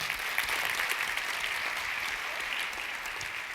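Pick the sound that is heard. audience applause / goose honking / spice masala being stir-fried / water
audience applause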